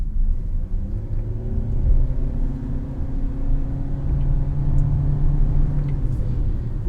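The 1.5-litre petrol engine of an MG Astor with a CVT gearbox drones under hard throttle, a loud, steady in-cabin hum with a slowly rising pitch and no talk over it.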